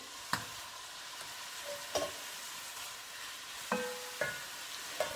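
Pork belly frying in a pan with a steady broadband sizzle, broken by a few sharp clinks and scrapes of stirring; no talking.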